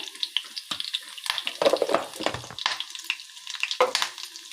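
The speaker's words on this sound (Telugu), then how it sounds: "ఇప్పుడు ఇవన్నీ మనం ఫ్రై అయ్యేదాకా ఫ్రై చేసుకోవాలి" Garlic and curry leaves frying in oil for a mango ginger pickle, bursts of crackling sizzle and stirring scrapes coming in uneven pulses, close and fairly loud.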